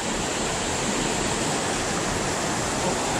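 Steady, loud roar of a waterfall in Tahoe National Forest, continuous broadband rushing water close by with no pauses.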